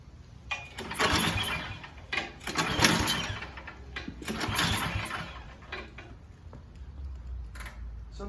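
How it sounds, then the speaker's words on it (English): Snowblower engine pull-started with the choke on: repeated rushing bursts of cranking and sputter, several pulls in succession, fairly close, without the engine settling into a steady run. "now I'm gonna turn the choke on and pull it one more time"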